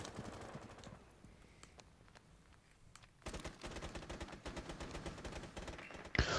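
Gunfire in Rainbow Six Siege, a tactical shooter game: a quieter opening with scattered shots, then a dense, loud burst of rapid fire from about three seconds on, ending in a sharp close blast.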